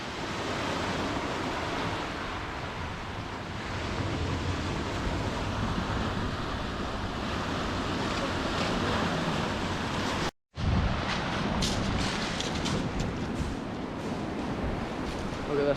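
North Sea waves crash continuously on a pebble beach along a wild Scottish coast, with a broad roar of surf and rattling stones, wind buffeting the microphone and a brief dropout partway through.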